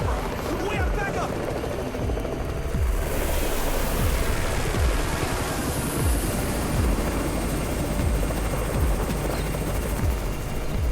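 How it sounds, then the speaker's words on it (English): A helicopter arrives in the zombie survival game Undawn, its rotor thumping in a steady rhythm under a broad rushing whine, with game ambience and voices mixed in throughout. "It's the Raven's chopper! We have backup!"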